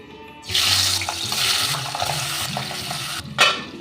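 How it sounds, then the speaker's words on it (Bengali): Pabda fish fry in hot mustard oil in a pan, a loud continuous sizzle that bursts in suddenly and crackles steadily, swelling briefly near the end. "অল্প লবণ ছিটিয়ে আমি মাছগুলোকে ভেজে নেব"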